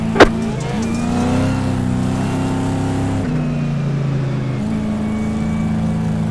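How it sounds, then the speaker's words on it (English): Pace car at a short course race, its engine humming loud and steady near the mic, pitch shifting through throttle changes and gear shifts, with one sharp click at the start and no talking. "The pace car is in."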